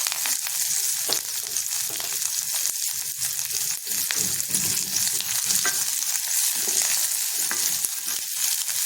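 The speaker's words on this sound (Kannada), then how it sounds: "ಬೆಳ್ಳುಳ್ಳಿ ಸ್ವಲ್ಪ ಹಾಕ್ಕೊಂಡು ಹುರ್ಕೋತೀನಿ ಇದಕ್ಕೆ ಮತ್ತು ಈರುಳ್ಳಿ ಮತ್ತು ಕರಿಬೇವು" Garlic, onion and curry leaves fry in an oiled pan, giving a continuous close, crackling sizzle with occasional spatula scrapes as the pan is stirred. No talking.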